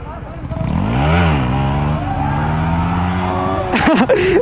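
A Kawasaki ZX10R superbike engine drones loud and close throughout, its pitch rising and falling with revs, ending in a burst of sharper revving.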